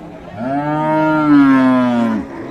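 A Sahiwal or Deshal cow with six to eight teeth gives one long, loud, close moo at the Ambari cattle market in Dinajpur, rising and then trailing off over about two seconds.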